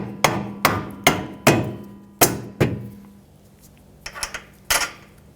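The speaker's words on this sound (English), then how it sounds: "Use a soft face hammer to help you pound it on." A soft face hammer pounds a shock absorber onto the lower stud of a 2003-2008 Honda Pilot rear suspension, giving a series of sharp, close thuds, several in steady rhythm, then a pause and a few more strikes, with no talking.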